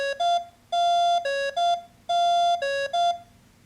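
A portable receiver sounds its alert: groups of bright electronic beeps in a stepped, repeating two-tone pattern, loud and close, with no voices.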